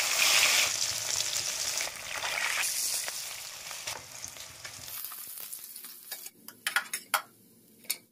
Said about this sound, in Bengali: মাছ দিয়ে ভালো করে লাল লাল করে ভেজে নেব।